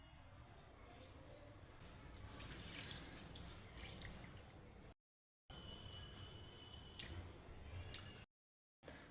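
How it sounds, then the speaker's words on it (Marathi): Kolam rice is rinsed in water before making pulao, giving soft wet squishing and dripping sounds, close and fairly quiet, broken by two short silent gaps. "आता हे तांदूळ 2 ते 3 पाण्याने स्वच्छ धुवून घ्यायचा आहे।"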